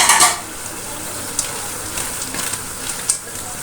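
Frozen peas sizzling and frying in minced meat for matar keema, a steady close crackling hiss with a few sharp pops and stirring scrapes, no talk.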